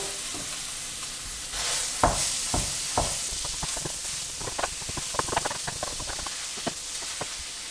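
Pork and veal mince frying in a pan for Croatian sarma cabbage rolls, with a steady close sizzle broken by sharp scrapes and clacks of stirring, irregular and fairly loud, no talk.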